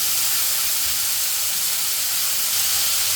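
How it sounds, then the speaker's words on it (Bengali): Potato and radish frying with onion in hot oil: a steady, close sizzling hiss that holds at an even level throughout. "আলুটা আর মূলাটা একটু পেঁয়াজের সাথে বেজে নিব তেলের মধ্যে"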